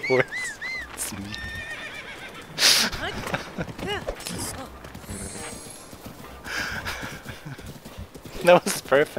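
A horse in Zelda Breath of the Wild neighs and whinnies several times with clip-clopping hooves, mixed with game effects while a voice talks over it.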